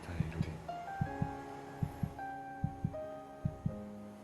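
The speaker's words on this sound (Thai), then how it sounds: "And then it's playing the heartbeat." A heartbeat plays in a drama scene as a steady lub-dub double thump, repeating about every 0.8 seconds over soft sustained music.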